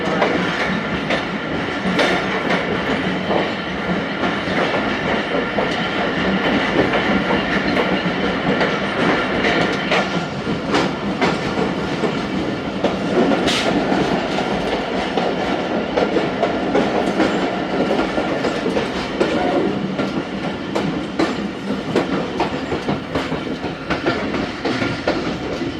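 The Khyber Mail passenger train runs on rails past Taxila Cantt Junction, a continuous loud rumble with rhythmic clickety-clack of wheels over joints and occasional faint squeals, heard from inside the moving train.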